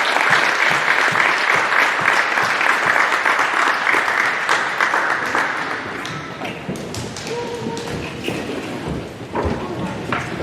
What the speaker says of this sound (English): Please give them a round of applause for all the hard work.